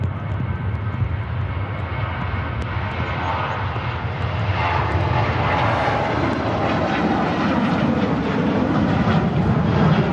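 A KLM airliner rolls out for takeoff to Amsterdam at Manchester Airport, a steady, loud engine roar building gradually and continuing without pause.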